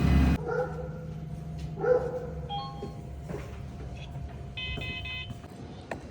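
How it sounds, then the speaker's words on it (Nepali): A large dog at a company premises barks twice, a few seconds apart, over a steady low hum, followed by a couple of short electronic beeps. "कम्पनीमा एउटा कुकुर छ, यो भुकै गर्छ लास्टै।"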